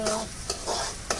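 Onions sauté in a pan with a soft, continuous sizzle. Quick spatula scrapes stir them at short intervals, close and without voices.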